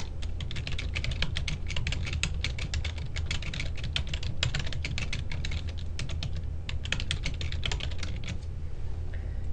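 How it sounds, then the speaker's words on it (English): Steady rapid typing on a computer keyboard while entering a question into a PowerPoint text box for an interactive presentation, continuous dense clicking throughout, close and fairly quiet with no voices. "you're going to click inside the text box and you're going to type in your question."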